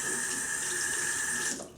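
Water streams steadily from a bathroom tap onto wet hands at a sink, a close, constant hiss that cuts off near the end.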